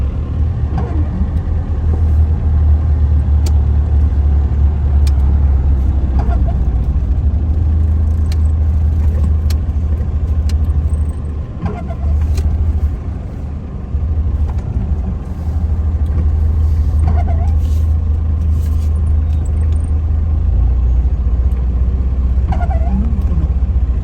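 Car engines and road traffic rumble steadily around a packed store parking lot, with a low continuous drone, occasional passing vehicles and revving swelling and fading; loud and close, no talking.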